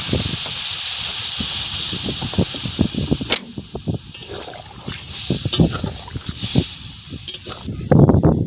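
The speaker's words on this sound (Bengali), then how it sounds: "এবার এর মধ্যে আমি পরিমাণ মতো জল দিয়ে দেবো সিদ্ধ করার জন্য" Water poured into a pan of fried vegetables for a Bengali shrimp dish, raising a loud broad hiss of steam that surges and fades with crackling bursts throughout.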